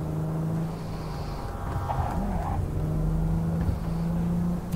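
A car engine in Cyberpunk 2077 hums at a steady, moderate level with a slight rise in revs partway through, close and continuous with no talk over it.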